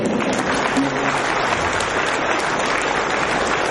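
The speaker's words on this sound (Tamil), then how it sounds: "நல்லா கைத்தட்டு." An audience at a book release event claps loudly and steadily, the dense applause filling a few seconds with no break.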